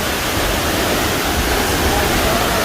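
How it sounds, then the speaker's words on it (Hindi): Powerful mountain waterfall on the Madmaheshwar trek in the Himalayas, a loud, dense, unbroken roar of rushing water heard close up. "इतना बहुत तेज है झरने का।"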